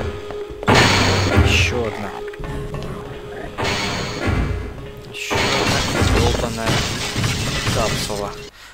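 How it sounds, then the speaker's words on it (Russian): A Half-Life monster smashes through glass, with several loud shattering crashes of breaking panes followed by scattering debris, joined by thuds and a voice speaking throughout. "а этот красавчик уже сам стекло пробивает"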